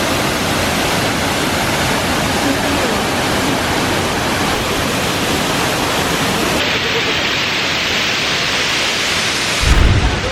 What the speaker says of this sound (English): that's pretty cool waterfall